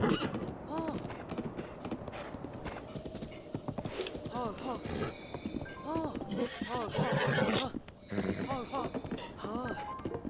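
A horse clip-clops along at an even walking pace with repeated neighs and whinnies mixed in, fairly close, while people talk over it, and a few sharp high ringing tones also stand out.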